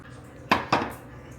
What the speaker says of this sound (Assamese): এখন ঢাকনি মাৰি থৈ দিওঁ।